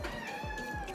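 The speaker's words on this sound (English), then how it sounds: "If you can hear that pathetic mewing" Indoor pet cat meowing plaintively to be let outside, a close, drawn-out wavering mew filling the brief moment with no talk.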